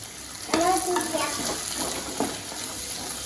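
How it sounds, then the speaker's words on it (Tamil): Fresh jackfruit seeds sautéing in a pan for a spicy gravy: a close, continuous sizzle with scraping stir strokes, and a voice speaking briefly over it. "இதையும் வந்து ஒரு 1 நிமிஷம் வதக்கிடலாம்."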